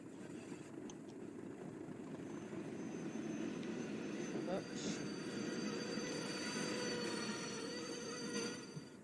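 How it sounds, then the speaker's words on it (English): A locomotive slows down in the Train Sim World 2 West Cornwall game, a steady rumbling rail drone with faint squeals and clanks, heard continuously at moderate distance. "Yeah, because the locomotive's slowing down."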